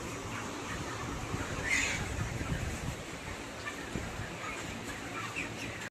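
Broiler chickens cluck and squawk on a farm while being caught by hand, with one louder flurry of alarmed calls early on over a constant rustling, busy background of birds and movement.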